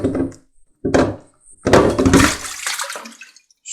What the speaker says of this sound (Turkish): Bunların içerisinde su dolu olduğu için dikkatli şekilde açmamız gerekiyor.